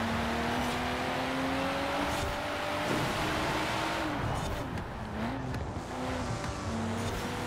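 Rear-wheel-drive race car engine in Forza Horizon 4 during a track race, a steady droning rev with shifting pitch and occasional tire squeal, loud and continuous throughout.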